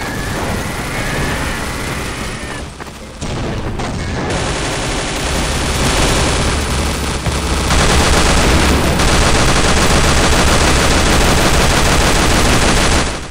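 Dense, sustained automatic gunfire from Counter-Strike zombie escape gameplay on a Crash Bandicoot-themed map, loud and continuous bursts of rapid shots layered over one another with a brief dip near the start.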